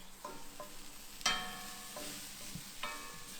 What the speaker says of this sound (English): Oh, it's sizzling now.